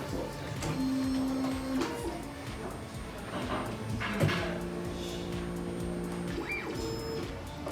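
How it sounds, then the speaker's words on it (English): Makerbot Method X 3D printer running its test print, a continuous mechanical whir with shifting stepper-motor tones and occasional beeps and clicks, close and fairly loud. "I'll let it do its test print for the time now."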